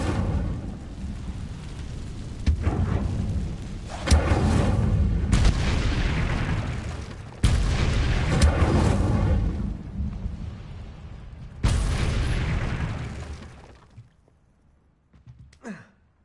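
Incendio fire spells cast in Hogwarts Legacy, loud whooshing bursts of flame recurring every few seconds over a low rumbling game backdrop, then fading toward the end.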